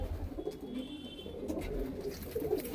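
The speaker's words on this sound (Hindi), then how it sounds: "बिल्कुल पतला दुबला कबूतर है भाई।" A slender white-eyed Panjabi Malwai pigeon gives a run of low, throaty coos, near and fairly steady throughout, over a low rumbling background.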